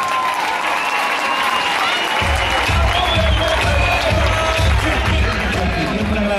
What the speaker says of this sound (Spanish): Que esto se merece un fuertísimo aplauso a todas ellas